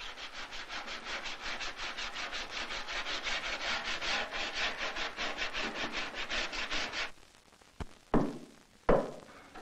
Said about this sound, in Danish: kan hele komsen endelig finpusses med sandpapir